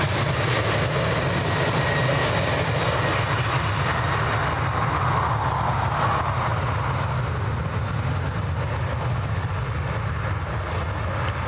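Passenger jet at Dublin Airport powering up and taxiing, a loud, continuous engine roar and low rumble at moderate distance with broadband whine, steady throughout and slowly easing toward the end.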